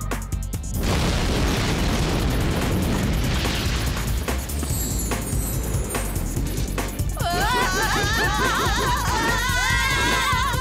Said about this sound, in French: Une bombe! Dans la soucoupe volante!